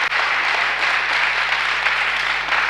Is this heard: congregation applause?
yes